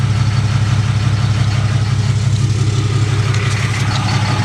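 A 2008 Ram 2500 with a 6.7 Cummins diesel idles through its muffler, a loud, steady, low throaty rumble with an even rhythm and no speech.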